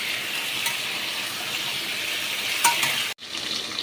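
Steady broadband sizzle of something frying in a pan until reddish, with faint stirring clinks around the middle before the sound cuts off abruptly near the end.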